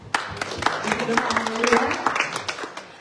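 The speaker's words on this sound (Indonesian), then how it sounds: "Tepuk tangan." A church congregation applauding at a Sunday service, with scattered sharp claps over a murmur of voices, building briefly and then thinning out.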